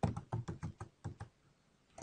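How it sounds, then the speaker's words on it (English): Someone types a name on a computer keyboard: about ten light, quick keystrokes come in an uneven burst, close and quiet, with a short pause near the end and no talking. "I can type in a name for this brush."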